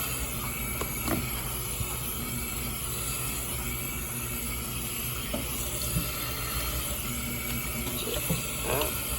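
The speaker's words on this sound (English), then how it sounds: "I just let the water run in this pot since they cannot find my bowls" Cold tap water runs steadily into a cooking pot in a home kitchen, a constant close rushing hiss with a few faint clinks, and no voices.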